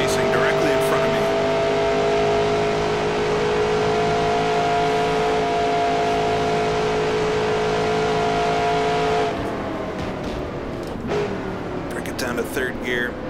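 A 1966 NASCAR Grand National stock car engine in a racing video game holds a loud, steady drone throughout, easing down in pitch near the end, with someone talking over it.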